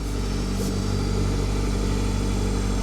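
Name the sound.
Lincoln MKX engine running with a slight whine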